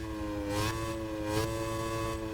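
Engine of a Chryslus Rocket 69 with a one-gear build in Forza Motorsport 6, a steady droning hum with two brief swells as it revs, close and alone.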